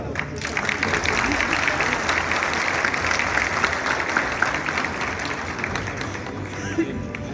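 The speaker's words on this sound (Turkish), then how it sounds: "Güçlü alkışlarınızla" Steady, dense applause from a large crowd at the Malatya Expo 2028 logo unveiling, continuous clapping at an even loudness throughout.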